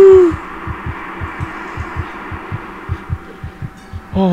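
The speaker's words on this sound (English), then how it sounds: "Oh, I can hear my heartbeat." Steady heartbeat in the horror game Among the Sleep, a low, regular double-thump pulsing about twice a second throughout, close and prominent beneath a faint hum with no talk.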